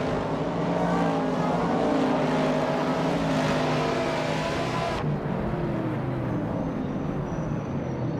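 A vintage Dodge Dart race car engine drones loudly and steadily in a race, its tone climbing as it passes close by, then cutting abruptly to a quieter, more distant engine sound.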